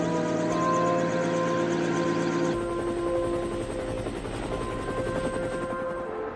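A military air rescue helicopter from the Korean War era, its rotor thumping steadily and fairly loud, shifting in tone partway through as the machine changes position.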